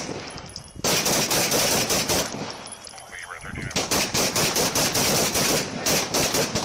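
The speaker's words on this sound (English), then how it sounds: "Three officers opened fire on the scene" Gunfire exchanged between police officers and a suspect at a shooting scene, sounding as long, loud bursts of rapid shots that break off for about a second and then resume, with no speech over them.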